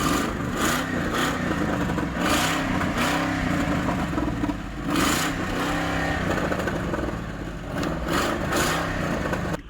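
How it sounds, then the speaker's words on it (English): Crown Victoria V8 revving through a cheap Poor Man's Muffler exhaust mod, repeated throttle blips rising and falling over a rumbling idle, close and loud. "the original Poor Man's Crown Victoria muffler"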